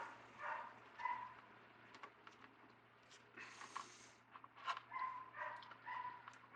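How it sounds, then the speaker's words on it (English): A neighborhood dog barks off in the distance after Hurricane Ida, its faint, irregular barks and yelps recurring throughout against a quiet background with a low steady hum. "I really wish that dog would shut the hell up"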